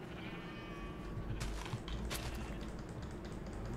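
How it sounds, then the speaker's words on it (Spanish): A Minecraft sheep bleats in a desert setting, a thin, wavering bleat at the start over a constant loud background hiss, followed by a couple of soft clicks. "estas ovejas solamente recuperan su tela si es que comen gras"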